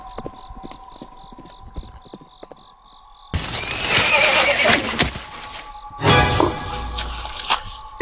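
A horse walking with clip-clopping hooves, first as soft, regularly spaced knocks under a steady tone, then swamped by sudden loud crashing noise and bursts of sound while people talk.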